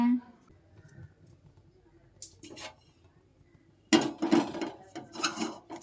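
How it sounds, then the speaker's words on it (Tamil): A kadai (wok) is set down on a kitchen stove with a short burst of metallic clatter and scraping, heard close and mixed with a person talking. "கடாய வச்சுக்கலாம் நம்ம ஸோ கடாயை வச்சு எண்ணெயை ஊற்றிக்கலாம்"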